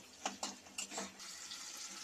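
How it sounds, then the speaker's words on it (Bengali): Onion fries in a pan until browned, a quiet crackling sizzle with a few louder bursts of stirring early on, then a steady faint hiss. "এখন আমি এটা একটু লাল লাল করে ভেজে নেব"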